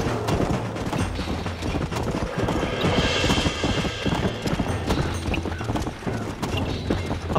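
Horse hooves gallop in the video game Red Dead Redemption, a fast, rhythmic clip-clop pounding on and on, loud and near, mixed with faint background game noise.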